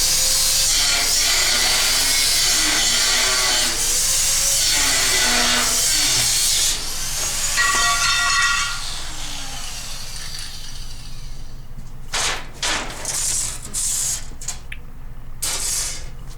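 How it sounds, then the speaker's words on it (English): Cordless 20-volt DeWalt angle grinder cutting metal on a scout car replica build, a loud hissing whine with shifting pitch that drops away partway through, leaving a quieter hum and a few sharp bursts. "Got this cordless 20-volt Dewalt Grinder."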